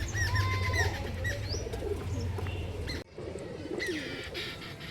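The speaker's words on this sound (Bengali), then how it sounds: "এই যে সামনেরটা মদ্দা পায়রা আর পিছনেরটা হচ্ছে মাদি পায়রা।" Caged Kalshira pigeons, a male and a female pair, giving soft repeated coos and chirps close by, with occasional wing flutters and rustling in the cage.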